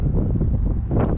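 Strong gusty wind, rated near 35 mph, buffets an outdoor microphone in a loud low rumble lasting about a second, with no voices.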